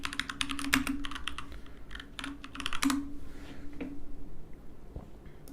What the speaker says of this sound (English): Don't look at what I'm typing.